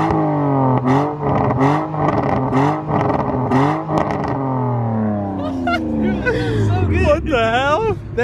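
A BMW E92 M3 with a muffler delete revs hard in repeated sweeps that rise and fall, with sharp crackling pops near the end. Voices chatter nearby throughout.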